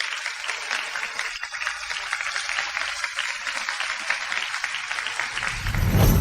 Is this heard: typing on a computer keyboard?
no